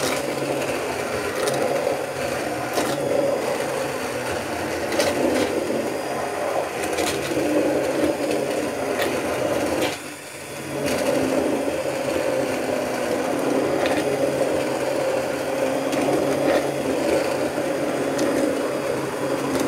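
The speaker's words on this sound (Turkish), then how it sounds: "Ben biraz daha rondo çekeceğim." A hand blender purees chopped figs for a milk dessert, a steady close buzzing grind that dips briefly midway and then resumes, continuing throughout.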